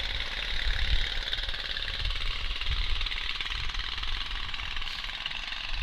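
Racing lawnmowers with their exhausts just ahead of the driver's feet run at about 20 miles an hour on a wet track. A steady, loud, buzzing engine drone carries on throughout without a break.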